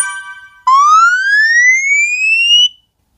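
A smartphone's emergency alarm siren, a loud, piercing electronic tone that sweeps upward for about two seconds after a brief softer tone, then cuts off, heard alone.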